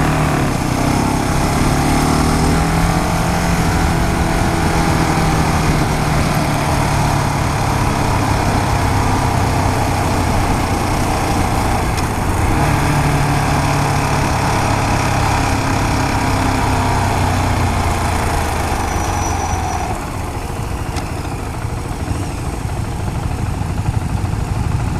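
A 2015 KTM Duke 690 single-cylinder motorcycle engine runs steadily and loudly close by for the whole stretch, a constant rough drone with a slight change in tone near the end.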